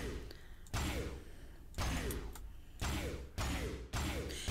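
Four heavy booming shots from a Matter Overdrive shotgun in the modded Minecraft pack Sky Factory 4, evenly spaced about a second apart, each a punchy blast with a ringing decay, fairly quiet overall.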